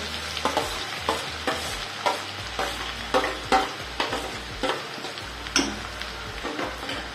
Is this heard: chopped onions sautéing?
yes